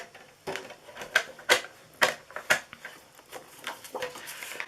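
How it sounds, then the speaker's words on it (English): A scoring tool pressed along an 11 by 4 1/2 inch piece of cardstock for a fun fold birthday card, giving a run of sharp, irregular clicks and taps, close and fairly quiet, with no talking. "now let's score this"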